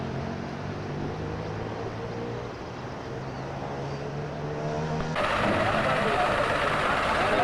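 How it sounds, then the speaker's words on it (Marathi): A heavy truck engine rumbles steadily, then revs louder and harsher as it strains pushing a stuck truck ahead, on the Badrinath route, with voices talking faintly over the noise. "या ट्रकला काढायला पाठीमागचा ट्रक त्याला जोरात धक्का मारतोय."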